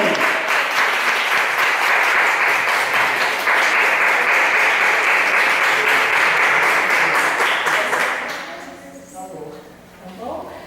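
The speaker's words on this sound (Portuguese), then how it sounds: "E vamos aplaudir o Deus Todo-Poderoso de alegria" A church congregation breaks into sustained, loud applause filling the room, with voices mixed in, then the clapping tapers off and fades in the last couple of seconds.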